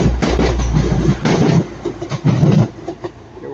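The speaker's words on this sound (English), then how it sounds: "We've got Transpennine coming in this way." A pair of TransPennine Express class 185 diesel units rolls into Ardwick with a loud rumbling engine and rhythmic wheel clatter over the rail joints, close and heavy throughout.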